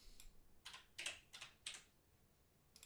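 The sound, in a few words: typing on computer keyboard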